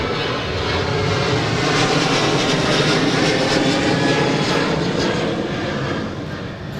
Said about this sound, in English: Qantas out of here.